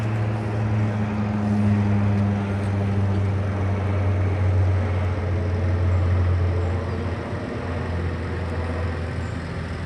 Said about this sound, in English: Bruh, that plane came out of nowhere.